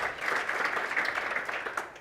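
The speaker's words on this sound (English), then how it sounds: "a warm round of applause, everyone, to our panelists today" A warm burst of audience applause for panelists at a discussion event on South Africa's circular economy, even and continuous clapping from a full room, moderately loud.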